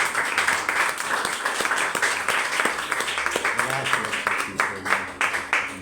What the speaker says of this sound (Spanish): ¿Cuánto le pueden dar un aplauso al Rey del Rey y Señor de Señor?